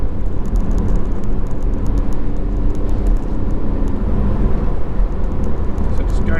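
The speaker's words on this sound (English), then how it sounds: "Going through the gears to build the speed" Car accelerating up through the gears onto a motorway during a driving instructor test drive, a steady loud engine and road roar with a faint rising tone, under a voice talking.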